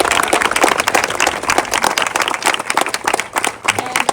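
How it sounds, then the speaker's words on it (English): A crowd applauds veterans at a rally event, loud continuous clapping from many hands, fairly near and unbroken. "May we please have a round of applause for all of our veterans."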